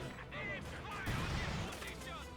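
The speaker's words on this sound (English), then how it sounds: "You have to be so on point when it comes to dodging those light arty barrages." Light artillery barrage in the Company of Heroes 2 strategy game, a cluster of muffled booming shell impacts rumbling over about two seconds beneath a steady mix of other battle noise.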